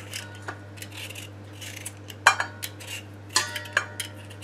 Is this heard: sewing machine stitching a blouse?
no